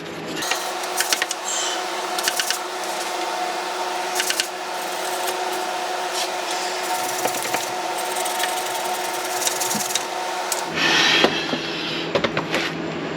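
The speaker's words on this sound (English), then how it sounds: "As you can see, grinding it off." A power grinder works metal on a Honda CRX drivetrain part in a garage, a continuous close whine with intermittent clicks and knocks, rising into a louder burst near the end.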